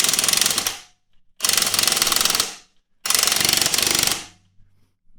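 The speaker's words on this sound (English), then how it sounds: "now we got the drill on, and we're just gonna go down until it tightens up" A Masterforce 1/2 inch impact wrench hammers on a car's lug nut in three loud, rapid rattling bursts, each about a second long, separated by short pauses, with no talking.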